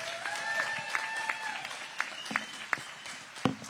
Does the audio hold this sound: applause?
yes